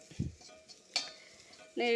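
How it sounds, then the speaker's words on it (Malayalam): Grated coconut and onion fry in a pan, giving a quiet, low sizzle broken by a few sharp scrapes and clinks of a spoon stirring against the metal. "ഇച്ചിരി തേങ്ങ വറുക്കുകയാണ്"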